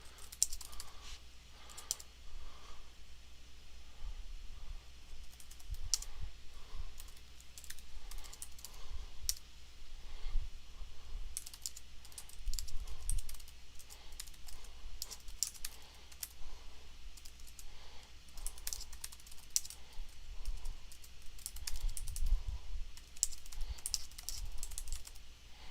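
Quick, steady keystrokes on a computer keyboard clatter close by for nearly half a minute, in bursts of rapid tapping with short pauses, mostly alone with almost no talking.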